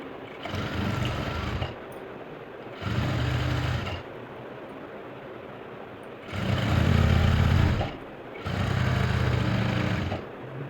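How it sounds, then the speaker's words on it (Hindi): Sewing machine stitching blouse fabric in four separate bursts of steady mechanical whirring, each lasting one to two seconds with short quiet pauses between, close and fairly loud, no talking. "यहाँ पे पक्की सिलाई लगाएंगे और एक पैर का गैप देते हुए एक सिलाई और लगा देंगे"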